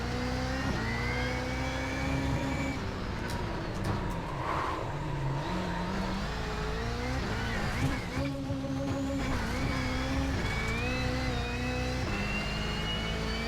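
A Subaru WRX rally car in iRacing revs and shifts continuously, its engine droning loud and close with rising and falling pitch, plus brief skids and handbrake turns.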